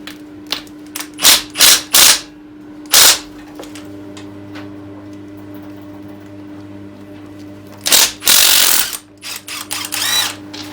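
A ratchet undoes the gearbox bolts on a Volkswagen Golf R32 Mk5 with a VR6 engine. Several short bursts of rapid clicking stand out over a low steady hum, with quiet pauses between them.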